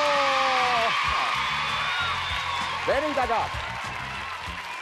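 A studio audience at a Spanish television game show applauds and whoops, with a brief burst of clapping and cheering heard under a host's loud voice and background music.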